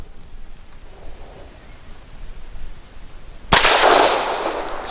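A single sharp shot from an Arsenal Firearms Strike One pistol loaded with soft point rounds, a sudden loud crack after a quiet lead-in, followed by a lingering ring.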